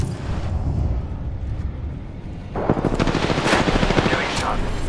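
Rapid bursts of gunfire in a first-person shooter video game, a steady rattling stream that starts at about two and a half seconds and grows denser, over a constant layer of background game noise.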